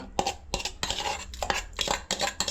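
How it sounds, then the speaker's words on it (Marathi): Boiled beetroot going into a pot of pav bhaji: busy metallic clatter of a spoon knocking and scraping against the pan in quick bursts, close and fairly loud, with no talking. "आता बीट पण घालून घेते"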